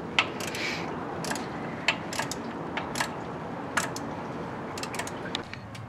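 A ratchet with a 1/2 socket clicks in short runs while bolts come off the thermostat housing of a Ford F150, the metallic ticks sharp and close over a steady background.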